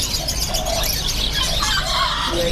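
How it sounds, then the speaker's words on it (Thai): Silkie chickens cluck at a busy animal-market stall, their soft calls carrying continuously over steady crowd and market bustle, with no clear talk. "สามนี้จะเป็นไก่ซิลกี้นะครับ"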